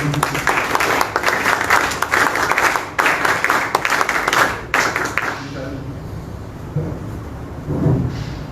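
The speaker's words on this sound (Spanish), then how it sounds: "Fuertes palmas para recibirlo" An audience applauds to welcome Vice Admiral Francisco Calisto at a forum on public security proposals, a loud, dense burst of clapping that stops abruptly after about five seconds, leaving quieter room noise and a few scattered voices.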